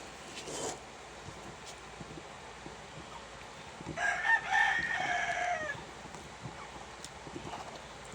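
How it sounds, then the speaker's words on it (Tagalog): A rooster crows once in the middle distance, a clear drawn-out call rising over a quiet rural yard with faint scattered clucks and knocks around it. "Kabati ko sa manok guys."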